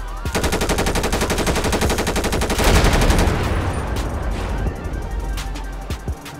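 Rapid automatic gunfire in the video game GTA 5, a dense machine-gun-like burst of evenly spaced shots that runs loud and continuous for several seconds, with a heavier blast midway and scattered single shots trailing off at the end.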